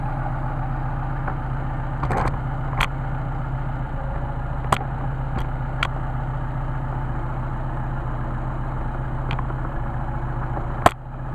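A Mercedes 190SL engine on Solex carburetors idles steadily at around 750 rpm, a smooth even hum close by, with a few sharp clicks and one knock near the end.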